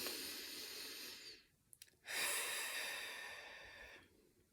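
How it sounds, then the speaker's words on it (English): A slow, deep breath with a long airy inhale, a brief pause with small soft sounds, then a long hissing exhale fading out, close and quiet, no talking. "Okay, deep breath again."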